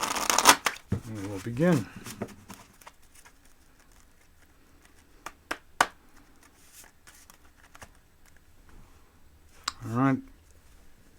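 A deck of tarot cards is shuffled in brief riffling bursts, with soft taps and clicks of handled cards between them, close by, while a voice speaks briefly.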